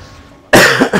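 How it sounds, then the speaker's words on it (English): One sharp, loud cough breaking out of quiet, made up of a couple of harsh bursts close to the microphone. "oh man, sorry about that cough"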